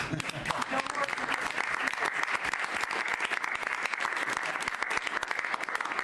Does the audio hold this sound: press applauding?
yes